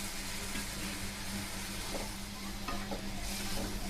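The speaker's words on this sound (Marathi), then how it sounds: "दूध घातल्यानंतर छान मिक्स करून घेऊया" Boiled milk being stirred into sheer khurma with mixed dry fruit, a continuous sloshing, scraping stir with a faint sizzle underneath, close and steady for a few seconds.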